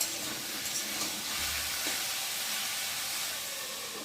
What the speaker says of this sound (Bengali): এদিকে আলুটা একটু ভাজা ভাজা হোক